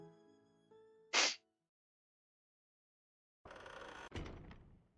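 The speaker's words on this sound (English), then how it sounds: "As the warehouse door closed" A warehouse door in the Charade Maniacs visual novel closes, starting with a sharp, loud scraping clang. After a short silence come rattling, grinding metallic sounds and a second heavy thud, all without voices.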